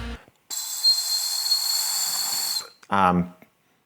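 A small clay flute is blown into at its tail, giving a steady, bright, airy whistle that holds for about two seconds, then stops; a short burst of voice follows.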